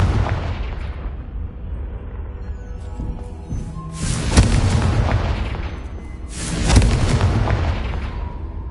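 Two loud booming fiery explosions from the Confringo blasting spell in Hogwarts Legacy, each a sudden roaring burst that rumbles off, spaced about two seconds apart over steady game ambience.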